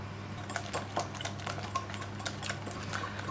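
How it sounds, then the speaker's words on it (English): Cornflour is whisked into an egg yolk mixture, a quick, steady series of light clicking taps of the whisk against the bowl, faint and close, with no talking. "Try to whisk it so that the cornflour dissolves in the egg yolk mixture."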